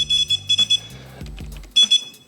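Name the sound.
five beeps from warning add-on on Gotway MSS electric unicycle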